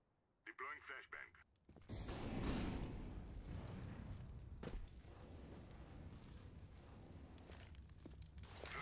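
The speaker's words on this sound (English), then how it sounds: "Deploying flashbang." A flashbang grenade going off in Counter-Strike: Global Offensive: a brief burst, then a sustained loud ringing, noisy wash with faint mechanical clicks and steps.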